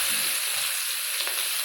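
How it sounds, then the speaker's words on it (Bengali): Cumin seeds and onions dropped into hot oil for chicken kosha produce a dense, loud, steady hiss of frying close by, with a couple of faint low bumps and no voices. "এবার আমি তেলের মধ্যে অল্প একটু জিরে দিয়ে পেঁয়াজগুলো ছেড়ে দেব"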